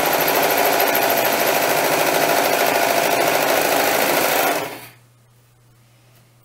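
Sewing machine running steadily as doll dress pieces are fed through one after another, a loud, close, continuous mechanical whir that stops abruptly near the end and leaves a low hum.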